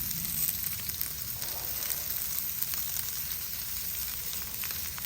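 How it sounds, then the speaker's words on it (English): Diced onions sizzling in oil on a Blackstone flat-top griddle grill beside smash burgers, a continuous, even hiss of frying heard close and alone without pauses. "on this side, we're going to put some onions for our burger."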